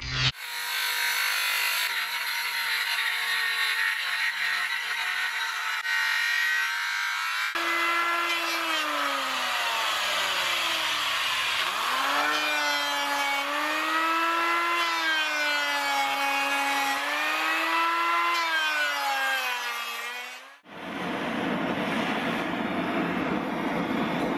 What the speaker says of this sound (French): je vais raboter la partie brûlée